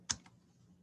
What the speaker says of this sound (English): And hit enter.